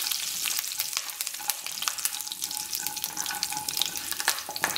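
Curry leaves dropped into hot oil crackle and sizzle in a busy, continuous hiss, with frequent sharp spits and pops close by.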